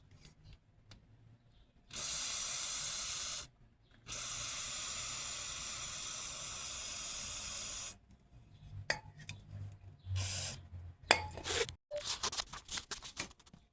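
WD-40 aerosol sprays onto Harley aluminum engine cases in two long, loud, steady hissing bursts, with a brief gap between them, followed by scattered rubbing and clicking from cleaning and a short third spray.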